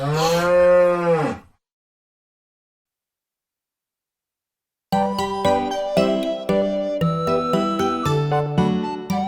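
A cow moos once, a loud, drawn-out low call that bends in pitch, followed by a few seconds of silence before a bouncy nursery-rhyme melody resumes.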